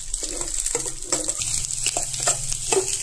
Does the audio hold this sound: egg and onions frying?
yes